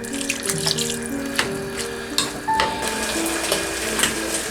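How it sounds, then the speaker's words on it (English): Water poured into a tteokbokki pan with cream sauce, running and splashing close up for several seconds, with a few clinks and steady tones from the kitchen behind it. "So we have to pour some water."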